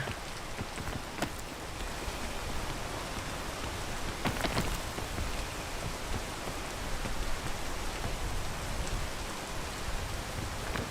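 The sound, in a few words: rain in a video game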